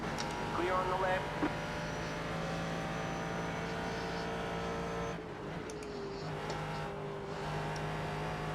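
Race car engine in the iRacing sim held under steady throttle through a GT corner, a continuous droning roar with a brief drop in tone midway, while a voice talks over it throughout.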